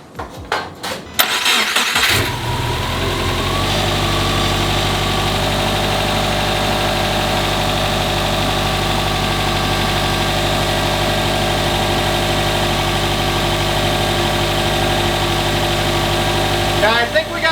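A Subaru WRX STI fitted with an EG33 engine cranks with a few quick bursts, catches, and settles into a loud, steady idle close by that holds for the rest of the stretch.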